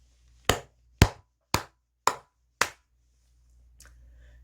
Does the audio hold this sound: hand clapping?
yes